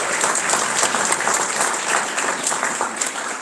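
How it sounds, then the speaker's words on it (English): Sustained audience applause fills a hall at a cancer gala, many hands clapping densely and steadily at close range for the whole stretch, with no voice above it. "We're gonna give one more clap."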